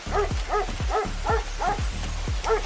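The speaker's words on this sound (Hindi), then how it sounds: "कुत्तों के भौंकने की डरावनी आवाजें उनके नजदीक आती जा रही थी।" Several fierce hunting dogs bark in a rapid, rhythmic series of sharp barks, close and fairly loud, over a low constant background hum.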